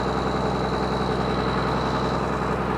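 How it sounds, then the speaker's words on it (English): A Ford 8700 tractor with a swapped engine idles steadily, a constant low rumble with a faint high whine above it, close by and unbroken. "We've got a running tractor now and it's all la-di-da, doing what it's supposed to do."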